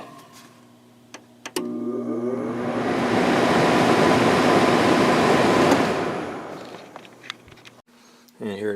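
A 6,500 BTU Sharp air conditioner with a Samsung motor starts up with a couple of sharp clicks, then a broad rushing whoosh of fan air swells, holds steady for several seconds and slowly fades, with faint clicks near the end.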